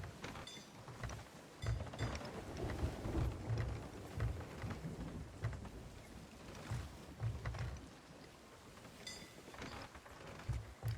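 Rain and rolling thunder at sea during a storm in Sea of Thieves, a steady wash of rainfall with deep low rumbles swelling and fading over the ship.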